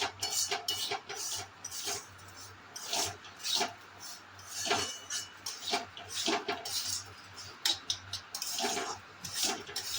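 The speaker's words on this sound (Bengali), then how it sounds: "দেখতেই পাচ্ছ আমি কিন্তু কন্টিনিউয়াসলি নাড়ছি, কিন্তু সুজিটা আমার এতটুকুও কালো হয়নি" Semolina stirred continuously in a pan with a spoon, giving steady scraping and clinking strokes of metal against the pan, close and moderately loud, with no talking.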